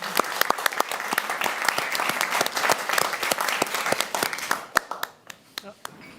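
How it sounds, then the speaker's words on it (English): Warm applause for a speaker at a talk event: a room of hands claps briskly and evenly, then thins into a few scattered, distinct claps as it dies away, with faint voices underneath. "give a warm applause to Gemma Venhuizen"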